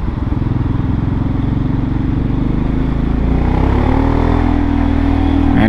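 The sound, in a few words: busy city traffic with motorcycles in Probolinggo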